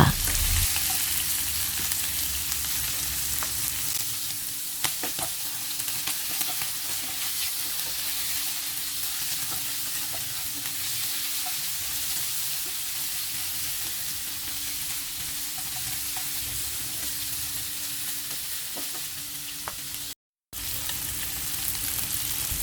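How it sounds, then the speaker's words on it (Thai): Shrimp and pork stir-frying in a pan for a Thai sweet and sour dish, a steady bright sizzle running throughout with occasional faint scrapes and clicks of stirring, close by and unbroken apart from one brief gap. "ออนจะผัดเนื้อสัตว์เป็นกุ้งกับหมูลงไปก่อน ผัดจนกระทั่งเนื้อหมูสุกค่ะ"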